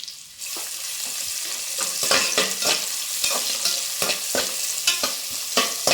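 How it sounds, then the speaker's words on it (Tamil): Onions and green chillies frying in hot oil for tomato biryani, a bright crackling sizzle that builds after a quiet start, with repeated scraping stirs at irregular intervals, close and without speech. "நல்லா பொரிஞ்சிடுத்து, வெங்காயம் போடுறேன்."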